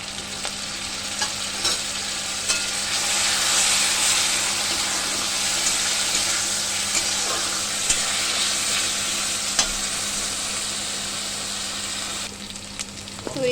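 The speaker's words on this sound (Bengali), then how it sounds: "আস্তে আস্তে করে মশলাটা আরেকটু কষিয়ে জল দেবে এখানে আমি একটু হালকা জল দেবো আর মশলাটাকে কষাতে থাকবো" Spice paste sizzles steadily in a pan as it is sautéed for doi katla, a Bengali rohu fish curry in yogurt, with continuous frying hiss and scattered scraping of a stirring spoon, close and fairly loud.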